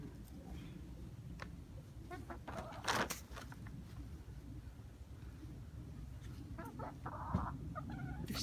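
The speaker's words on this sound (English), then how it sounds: "Smart chickies." Chickens on a homestead during a cold winter storm, clucking in brief scattered bursts at a moderate distance, with wind noise and a soft background hum.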